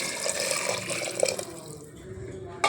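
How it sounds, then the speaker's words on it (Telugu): Water poured into a cooking pot while preparing a soup-like dish, a soft continuous splashing and trickle close by, fading briefly before a sharper sound at the end. "ఇప్పుడు వాటర్ పోస్తున్నాను"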